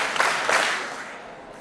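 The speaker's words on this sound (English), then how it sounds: "If you can hear me, clap three times." Audience clapping three times on request at a race and equity meeting, a few quick claps together from a crowded room fading into room echo.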